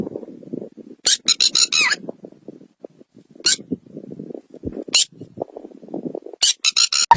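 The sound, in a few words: person imitating the call of a red-wattled lapwing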